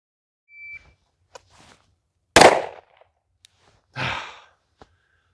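Two loud Glock 43X MOS pistol shots fired at a target from the 10-yard line, spaced over a second apart, with light handling clicks and quiet pauses around them.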